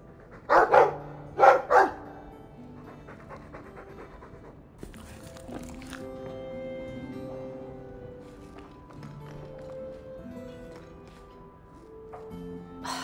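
A Mabari war dog in Dragon Age 2 lets out a few sharp, loud barks near the start, followed by panting and soft sounds under a quiet musical background.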